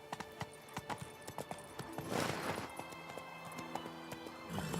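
Roach the horse gallops in The Witcher 3 video game, rapid clip-clop hoofbeats in a steady rhythm, close and clear, with a brief whoosh of wind midway and a faint musical score underneath.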